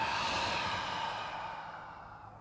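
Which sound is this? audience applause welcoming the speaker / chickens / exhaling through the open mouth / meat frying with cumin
exhaling through the open mouth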